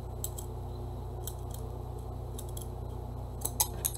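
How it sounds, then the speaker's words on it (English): Scissors snip through paper to cut out a decoration piece for a DIY tiered tray. Short bursts of crisp, close cuts come in small clusters over a low, steady background hum. "I'm going to figure out where I need to cut this one out."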